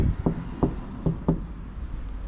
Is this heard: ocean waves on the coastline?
no